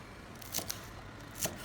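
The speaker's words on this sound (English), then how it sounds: "Take the remaining green onion tops and cut them into short segments." Green onion tops are cut into short segments, giving three quick, crisp snips against faint background hiss.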